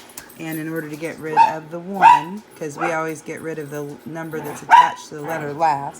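Dogs bark and yip intermittently in the background of a home setting, partly masked by someone speaking steadily throughout.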